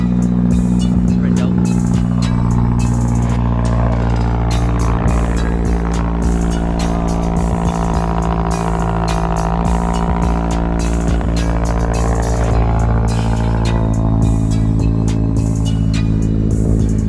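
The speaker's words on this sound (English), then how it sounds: "Let me start the car. Kind of a cold start." Mazdaspeed 3 started cold, its engine running loud and steady with a dense low rumble and rapid pulsing throb that holds for the whole stretch, close by with no pause.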